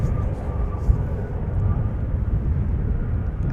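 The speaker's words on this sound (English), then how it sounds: "Landing, touching down the nose gear at approximately the same point as yesterday." A Boeing 747-400 lands at Amsterdam Schiphol Airport, heard as a steady, loud roar of jet engines and rumble from a distance, with faint voices nearby.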